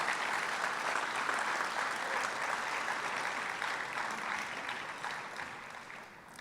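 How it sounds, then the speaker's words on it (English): A large audience at a fire department awards ceremony claps steadily in a broad, even round of applause that slowly tapers off toward the end. "Join me in a round of applause for these amazing individuals."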